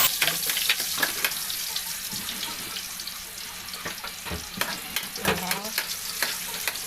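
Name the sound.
onions sautéing in a frying pan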